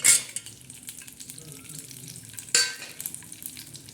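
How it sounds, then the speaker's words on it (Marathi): Curry leaves hitting hot oil, a sharp burst of crackling at the start and another around the middle, with lighter sputtering and stirring noises in between. "तेल टाकल्यानंतर त्याच्यामध्ये पहिला कढीपत्ता टाकणार आहोत"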